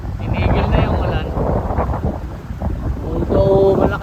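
Strong wind buffeting a microphone out at sea on a fishing boat after rain, a loud rumbling roar with gusts, and brief tonal whines near the end.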